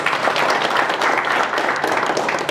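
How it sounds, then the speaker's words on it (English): Applause from the audience at an awards ceremony in Zimbabwe, loud and continuous clapping from a packed hall lasting a few seconds. "Round of applause."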